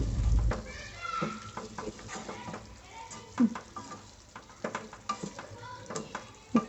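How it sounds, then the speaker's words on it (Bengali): Chicken meat stirred into fried spices in a pan for a chicken and bottle gourd curry, with intermittent scraping and soft sizzling up close in uneven bursts, and a voice murmuring faintly in places. "এখন মাংসগুলো দিয়ে দিব। ভালো করে নেড়েচেড়ে নেব।"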